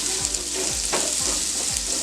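Finely chopped onions fry in oil with whole spices such as cardamom for a mint paneer pulao, giving a loud, steady sizzle with regular scraping stirs and no talking.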